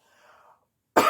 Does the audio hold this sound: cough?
yes